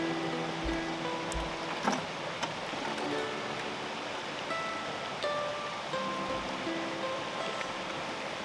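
Creek water flows and gurgles in a steady, soft wash during very cold weather, with a few faint thumps and rustles nearby and no talk.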